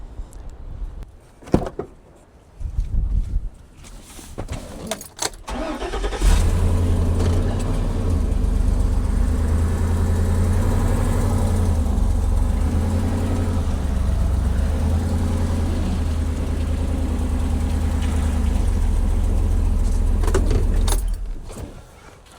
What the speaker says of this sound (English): First thing, get the truck out of the way.